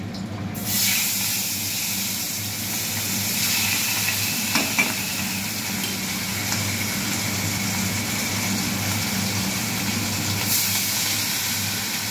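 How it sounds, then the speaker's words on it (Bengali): Hilsa fish pieces slide into hot oil, a loud sizzle bursting in at the start and then holding as a steady, close hiss with occasional spits for the rest, no speech. "তেলটা গরম হয়ে গেছে, এবার মাছগুলো একে একে তেলের মধ্যে ছেড়ে দেব"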